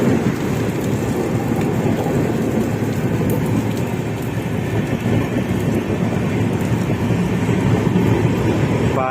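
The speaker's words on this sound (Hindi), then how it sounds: "बारिश बड़ी जोरों की हो रही भाई।" Heavy monsoon rain in Mumbai pours down in a dense, constant roar with no pauses, loud and close.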